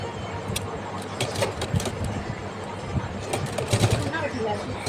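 A sewing machine stitches a seam on a baby frock with a zip, a steady low mechanical hum running throughout, with a voice talking over it.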